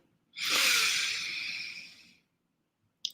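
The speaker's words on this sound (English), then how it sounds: "So breathing all the way in." A single long, deep inhale through the nose or mouth during a guided relaxation exercise, close and steady for about two seconds, with no talking.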